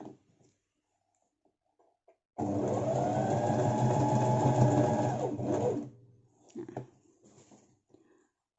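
Sewing machine stitching a straight line on fabric, a loud steady motorized whir running for about three seconds, with quiet handling clicks before and after.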